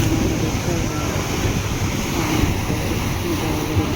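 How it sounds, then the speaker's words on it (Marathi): Loud sea waves roll onto a beach in strong wind, a dense, continuous roar of surf and wind noise, steady and close, with no voices. "बघा आवाज येतोय लाटांचा"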